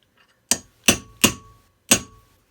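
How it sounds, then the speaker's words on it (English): Four sharp metallic hammer strikes on a nail set drive a nail just beneath the surface, spaced irregularly over about two seconds, each a crisp close impact with a short ring. "I'm going to use my bigger hammer."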